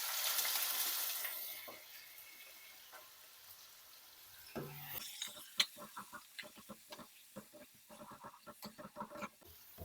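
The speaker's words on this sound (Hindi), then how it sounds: "गरम तेल में प्याज मैंने शामिल कर दिया है और चम्मच भी चला दिया।" Chopped onion drops into hot oil and fries with a steady sizzle and crackle, while a spoon scrapes and stirs in quick, irregular clatters that grow busier toward the end; no voices.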